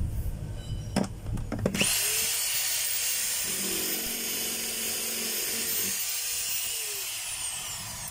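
A DeWalt D25133 rotary hammer runs in drill mode, rising to a steady high whine with a low motor hum after a few clattering handling knocks at the start, loud and close with no talk.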